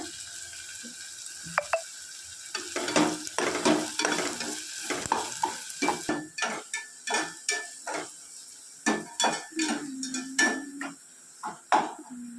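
Onions sautéing in a pan for a cauliflower gravy, with a spoon scraping and stirring in repeated strokes over a soft oil sizzle, close and alone.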